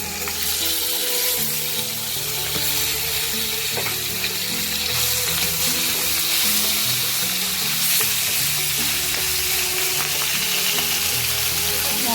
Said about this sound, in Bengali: চলো মাছটাকে ভেজে নিই